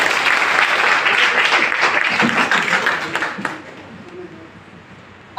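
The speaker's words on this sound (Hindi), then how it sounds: "एक बार अपने लिए जोरदार ताली।" Loud, dense applause from an audience at an RCM business success-plan seminar, steady for about three seconds before fading into scattered claps.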